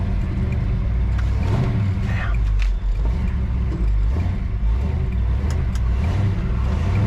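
A minivan drives past on a road near a parked classic 1967 Chevelle, its engine and tire noise swelling and fading amid steady traffic rumble, without speech.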